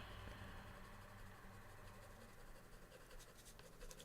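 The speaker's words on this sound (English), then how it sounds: "I take the side of my pencil a bit on this." Graphite pencil shading on paper with the side of the lead makes a faint continuous scratchy rasp, soft and close, with slight strokes near the end over a low background hum.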